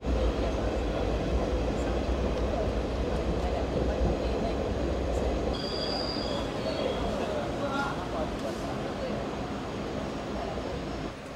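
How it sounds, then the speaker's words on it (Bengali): The 16116 PDY MS Express passenger train rolls into a halt station, heard from on board as a loud, continuous rumble of wheels and carriages with a faint squeal partway through and muffled voices in the background. "তো আমরা এখন পৌঁছতে যাচ্ছি এই ট্রেনের 6 নাম্বার হল্টে"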